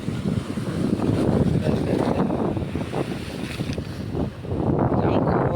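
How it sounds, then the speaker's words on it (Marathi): Sea waves breaking on a Konkan beach at sunset, a continuous rushing surf with gusty wind buffeting the microphone and swells of louder wash. "आणि लाटा बघा"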